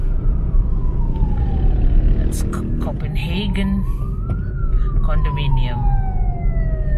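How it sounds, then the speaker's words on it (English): An ambulance siren wails with a slow rising and falling tone as it passes on a road between Mandaue and Cordova, over steady traffic noise, and a person speaks briefly partway through. "An ambulance is passed through."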